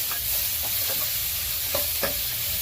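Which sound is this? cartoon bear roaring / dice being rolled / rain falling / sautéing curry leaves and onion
sautéing curry leaves and onion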